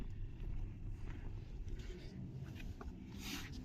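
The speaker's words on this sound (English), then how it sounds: "Ooh, it just got really windy." Wind gusts around a Land Rover Discovery camper, a faint low rumbling buffet with steady rushing noise and occasional soft knocks.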